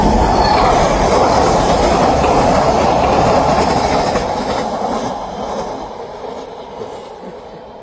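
An eastbound train rolls past with a loud roar and squealing, clattering wheels, then fades away into the distance.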